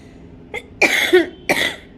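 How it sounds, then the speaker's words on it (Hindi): Three quick coughs, a short light one followed by two harsher, louder bursts, close to the listener in a quiet room. "खांसी हो रही है फ्रेंड बहुत ज़्यादा ही"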